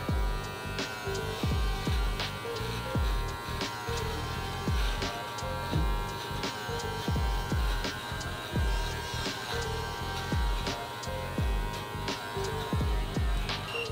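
An electric trimmer cuts a beard in a steady buzzing hum, broken by rhythmic strokes that repeat roughly every second, close and alone with no talk.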